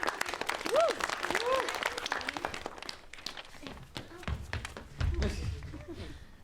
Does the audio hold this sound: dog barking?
no